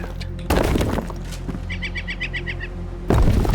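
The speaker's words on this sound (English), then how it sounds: "Shut up, bird." A bird honks in Enshrouded, a quick run of about eight short, evenly spaced honking calls over a low, steady game ambience, set between bursts of louder clatter.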